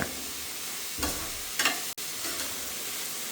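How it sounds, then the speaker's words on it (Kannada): Carrots, beans and garlic frying in a pan, a steady sizzle with a few louder stirring scrapes and bursts, close and fairly quiet, with no talking. "ಕ್ಯಾರೆಟ್ ಎಲ್ಲ ಹಾಕಿ ಚೆನ್ನಾಗಿ ಫ್ರೈ ಮಾಡ್ಕೊಳ್ತೀನಿ"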